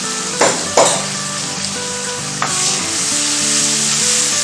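Onions and curry leaves frying in oil for a village-style gongura mutton curry, a loud close sizzle with a couple of sharp stirring scrapes early on, running continuously without speech.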